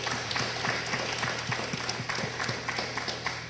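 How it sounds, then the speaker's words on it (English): An audience at a community design presentation applauds the design team. The clapping is steady and dense, with many hands filling the room, and there is no talk over it. "I think they do deserve a round of applause for all of"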